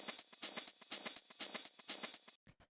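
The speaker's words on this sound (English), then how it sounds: "So the next thing I have here are these vinyl hi-hats" Layered hi-hats tick in a busy, steady groove with a crunchy, lo-fi vinyl texture and faint crackle, stopping abruptly near the end.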